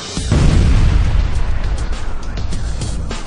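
An explosive blast strikes an aluminum foam panel: one sudden, loud, close boom, then a rumbling, crackling decay that fades gradually.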